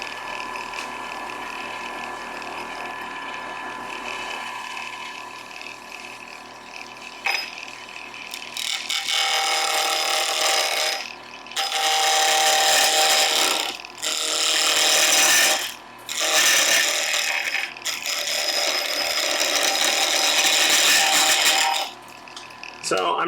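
A woodturning blade cuts a hardwood bottle stopper spinning on a lathe, giving a harsh scraping rasp in several long bursts separated by brief pauses, loud and close over the hum of the running lathe.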